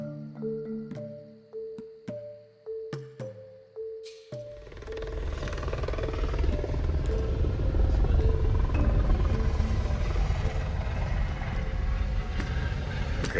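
On Mauritius, a helicopter's dense, loud rotor and engine rumble builds and holds steady after a few seconds of short tonal pulses, with no talking.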